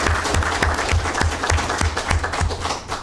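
A steady burst of applause from a crowd at a school committee meeting, dense clapping with rhythmic thumping underneath, fairly loud and continuous throughout.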